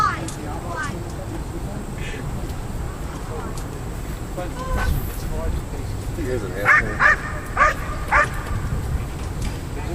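A dog barks repeatedly at a PSA trial routine. Sharp, loud barks come in a quick run near the end, with some whimpering yips earlier, over outdoor background noise and people talking.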